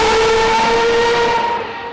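A Formula 1 turbo-hybrid V6 car engine sounds as a loud, sustained high-pitched tonal whine close by, fading slightly at the end.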